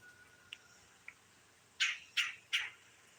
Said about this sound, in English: That noise you hear is a woodpecker.